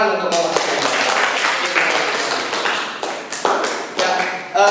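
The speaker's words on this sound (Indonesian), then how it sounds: "Beri tepuk tangan untuk kelompok" A classroom group claps in a dense burst of applause for a student group, a continuous patter of many hands that slowly thins toward the end.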